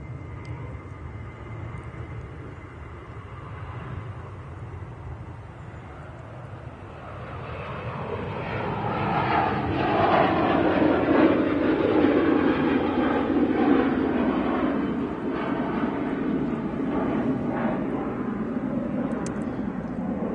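Ryanair Boeing 737 jet airliner departing Manchester Airport for Cork, its engine roar building from a low rumble into a loud, sustained whoosh with a falling tone as it passes, then fading slightly.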